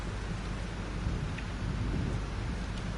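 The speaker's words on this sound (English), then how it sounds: "This storm is real." A thunderstorm with heavy rain in the video game Life is Strange sounds as a dense, steady roar of rainfall with low rumbling underneath. It is loud and continuous, with no voices.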